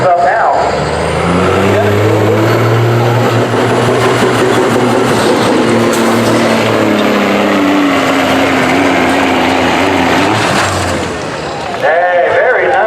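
A Peterbilt semi truck engine revs hard during a truck pull, a loud sustained roar with rising pitch at close range under an announcer's voice, cutting off near the end.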